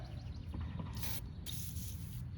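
An aerosol spray can hisses onto the rear brake parts of a 2002 Pontiac Grand Am in short bursts, two main sprays over low background noise, close and fairly quiet.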